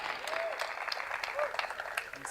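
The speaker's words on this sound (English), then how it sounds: "let's give her a round of applause" An indoor audience claps in a brief, fairly faint burst of applause, many hands together in a scattered patter that fades after a couple of seconds, with no words spoken over it.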